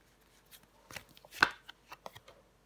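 Tarot cards are shuffled and laid down on a table during a reading, giving a few soft papery slaps and rustles, faint and close, with no voice over them.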